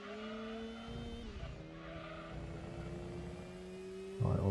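A turbocharged Mazda RX-7 race car drones steadily through a video game race, its engine tone holding and shifting pitch, with tire squeal and skidding along the way and a louder burst near the end.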